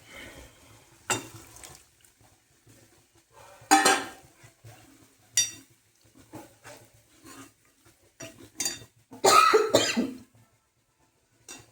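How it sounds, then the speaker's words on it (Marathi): Choking coughs from pungent roasting spices in a kitchen, several sharp separate coughs spread through the stretch, mixed with clinks of pots and utensils and quiet gaps between. "आता इथं झालाय ठसका"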